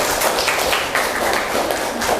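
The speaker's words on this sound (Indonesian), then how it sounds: "Beri tepuk tangan dulu untuk Masnya." A classroom group claps together in a steady, dense burst of applause during an Islamic religious education lesson, with no voices over it.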